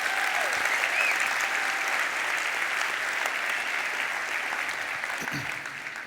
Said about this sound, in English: Would you just give them one more round of applause?